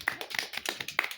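Sharp claps and taps from children in a village neighbourhood play, a handful of uneven, close hand strikes over about a second with no voices.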